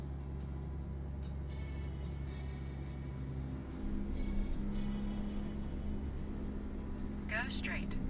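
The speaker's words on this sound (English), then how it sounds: "that's all trailer sounds, wheels, brakes, and the reefer" In American Truck Simulator, a truck's trailer wheels, brakes and reefer unit produce a steady low mechanical drone with a tonal hum, rising slightly midway, with a faint brake hiss near the end.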